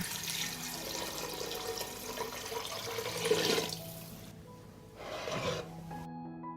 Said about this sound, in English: I will pour a liter of water.